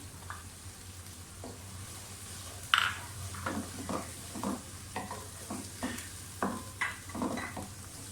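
Tomatoes and onions frying in a pan for palak gosht, a soft steady sizzle punctuated by repeated scraping strokes of a spoon stirring, close up and fairly quiet, without speech.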